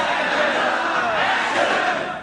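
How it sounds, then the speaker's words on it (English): A large audience at a corporate annual awards meet shouts a three-word cue together, forming one loud, dense block of voices in unison that holds steady for a couple of seconds and then tails off. "On the count of 3, you will say lights, camera, action."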